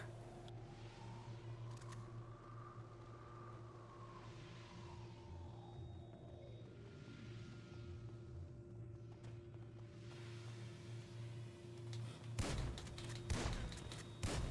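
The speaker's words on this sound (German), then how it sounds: "Zuerst mal ins Metall geschossen." In the video game GTA Online, gunshots strike metal, heard as a short cluster of sharp cracking impacts near the end over a steady engine-like drone and a rising and falling whine.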